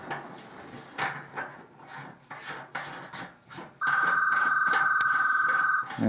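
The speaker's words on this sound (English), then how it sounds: "And the phone rings." A telephone rings with a steady electronic trill for about two seconds in a tuba repair workshop, following a stretch of soft shuffling and workbench noise.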